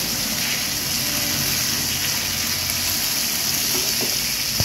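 Boiled potatoes sizzle as they fry together with chicken kosha in a pan, a continuous close crackle and hiss that stays steady with no talk.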